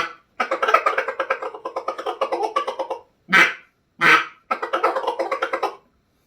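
A duck call blown in runs of rapid quacks, a long stuttering series, two short isolated blasts, then another quacking run that fades, loud and close with no talk.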